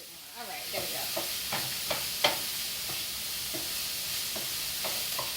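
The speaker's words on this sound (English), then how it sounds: "get my veggies all heated up and you know, and let them saute a little bit" Vegetables sauté in a hot pan with a continuous soft hiss and sizzle, punctuated by light scraping clicks of stirring, fairly close and quiet with no talking.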